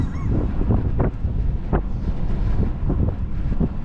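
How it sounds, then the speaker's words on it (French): Strong wind roars during a December blizzard on Montreal's south shore, a constant loud buffeting rush with gusts that rise and fall against the microphone and no clear speech. "ça se peut qu'on entend le vent"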